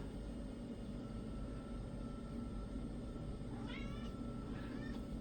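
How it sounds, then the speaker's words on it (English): A pet cat meows a couple of times near the end, clear high calls over a steady low background hum in a room where an old Gateway 2000 PC is being upgraded. "there's my cat"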